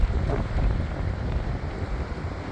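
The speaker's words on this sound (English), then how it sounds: "Oh, it's windy, isn't it?" Wind gusts buffet the microphone on a beach at New Smyrna, a steady low roaring rush with no voices.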